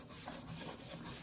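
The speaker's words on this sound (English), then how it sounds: "I just dip my fingers with a piece of old rag and wipe it on." A rag is wiped over wood to spread an aging finish on a haunted hotel facade, giving a brief, steady, close rubbing sound.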